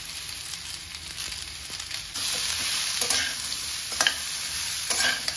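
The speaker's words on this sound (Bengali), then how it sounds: "অল্প একটুখানি ভেজে নিয়ে এরপরে এর মধ্যে নুন দিয়ে দেবো।" Ridge gourd and potato sizzle steadily in hot oil while a spatula scrapes and stirs, with sharper clicks of the utensil against the pan, close and continuous with no talk.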